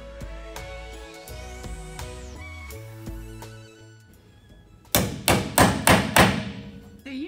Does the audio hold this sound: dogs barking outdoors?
no